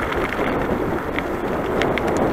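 Steady gusty wind rushing and roaring, with faint rustling and occasional light ticks over a constant broadband blow.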